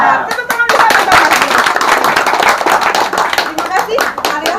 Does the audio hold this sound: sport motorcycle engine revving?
no